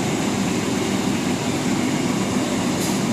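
An economy-class passenger train runs along the track with uneven, bumpy wheels, a loud, continuous rumble and hiss heard from inside the carriage with no talking.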